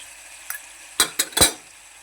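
A spoon scrapes and clinks a few times against a pan while egg masala with garam masala is stirred, three or four short close knocks over a faint sizzle, with no talk.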